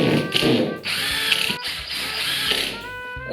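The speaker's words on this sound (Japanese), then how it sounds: "この合板を 40mm のビスで留めていきたいと思います。" A power driver sinks 40 mm screws into plywood over floor joists, giving a loud, steady whirring grind with a brief pause and restart, close up.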